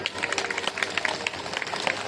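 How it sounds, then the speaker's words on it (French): A smattering of light applause, scattered claps from a small group, fairly close and steady for a couple of seconds, at a falconry flight demonstration at Château d'Estaimbourg, Belgium. "Et là, on peut l'applaudir, c'est bien."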